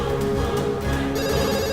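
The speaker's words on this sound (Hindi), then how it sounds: "Please pick up the phone." A telephone rings steadily with a continuous electronic trill, fairly loud and close, with no voices over it.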